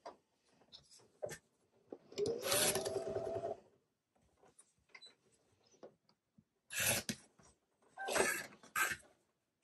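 Excess quilt fabric trimmed away a quarter inch beyond the marked lines, heard as a few short, close rasping cuts in separate bursts with quiet pauses between them.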